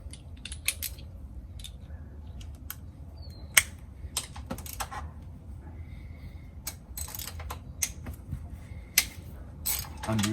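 An 8mm ratchet wrench with an extension undoes the oil filter cover bolts on a 2004 KTM SXC 625 LC4, giving bursts of quick clicking ratchet pawl ticks, close and irregular, between short pauses.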